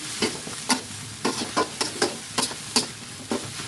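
Spatula scraping and tossing pork fried rice with duck egg and brown rice in a medium wok, a series of sharp, close metallic scrapes in an irregular rhythm over a soft, continuous sizzle.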